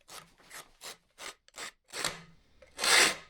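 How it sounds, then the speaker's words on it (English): A wooden longbow has its notches and tips shaped with a hand file: about seven separate rasping strokes in a steady rhythm, close by, with the last strokes louder and longer. "he filed the notches in, and he filed the tips into the shape"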